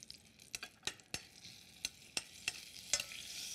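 Mustard seeds, fenugreek and urad dal sizzling in hot oil, with a steady faint fry beneath a scattering of sharp, separate pops and crackles from the seeds, close and fairly quiet.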